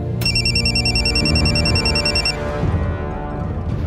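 A mobile phone rings in a Hindi TV crime drama, a steady electronic ringtone repeating loudly for about two seconds over a low background music bed, then cutting off as the score carries on.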